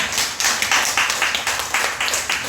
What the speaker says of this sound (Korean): 다 같이 박수로 환영할까요?